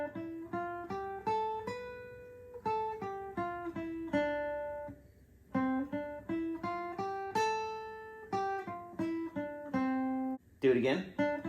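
Electric guitar plays a solo slowed down, a steady run of clean, separate picked notes climbing and falling, with one short pause partway through and a brief scrape at the end. No talking.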